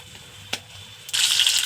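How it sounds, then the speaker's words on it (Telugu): Eggs sizzle and crackle in a hot pan, starting with a brief tap and then breaking into a steady, bright hiss of frying that continues to the end. "గుడ్లు ఇలా వేపుకోవాలి."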